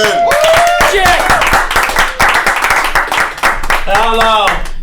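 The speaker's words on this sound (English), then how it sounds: "Give a round of applause for Jack Allen." Applause and cheering from a comedy club crowd welcome comedian Jack Allen to the stage, loud and close, with shouted voices and whoops rising over the clapping.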